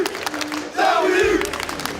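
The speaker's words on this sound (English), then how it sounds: "the crowd absolutely losing their minds" A large esports crowd at a Tekken 8 tournament yells and cheers, a loud surging roar of many voices that swells midway and stays strong throughout.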